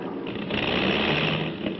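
Failing aircraft engines in a 1950s radio drama roar as a plane dives. A steady, dense droning rumble stays loud and unbroken, with no voices.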